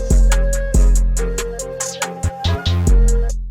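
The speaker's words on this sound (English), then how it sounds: "As you can hear, the 808 already comes through so much better with that." Hip-hop beat with a deep 808 bass boosted by EQ around 88 Hz, heavy booming low hits repeating under bright percussion and a melodic line, loud and up front.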